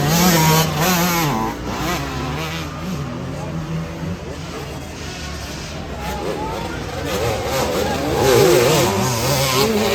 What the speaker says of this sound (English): I think that's a KTM 150.